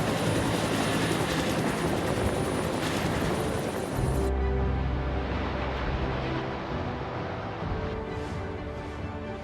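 A firefighting helicopter's rotor and engine drone loudly and steadily, the pitch shifting midway as it passes, with no one talking.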